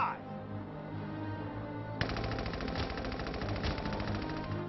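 Gunfire in the video game Valkyria Chronicles 4: a sharp burst opens into sustained rapid automatic fire, loud and dense over steady game background sound.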